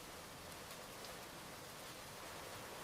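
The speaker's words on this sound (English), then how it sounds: "Rain is falling on the river." Rain falls on a river, a soft, even, continuous hiss of drops striking the water, with no voices.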